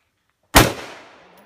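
A single sharp gunshot cracks at a firing range in Baguio, close and loud, with its echo trailing off over the next second.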